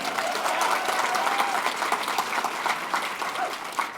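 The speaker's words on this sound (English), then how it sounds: "I would like you guys to give another round of applause to my two friends" Sustained applause from a youth outdoor-learning conference audience for two speakers, a dense steady wash of many hands clapping at moderate distance, with faint voices mixed in.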